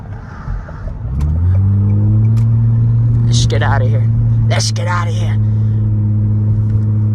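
A straight-piped Nissan Altima in New York traffic roars as the engine is revved hard, a loud, raspy exhaust note climbing and then holding steady, close up, with someone speaking briefly over it.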